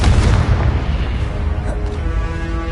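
Booming blast from a fire-blasting spell in a PS4 game, a loud dense burst at the start that rumbles on and fades through the following seconds with no speech.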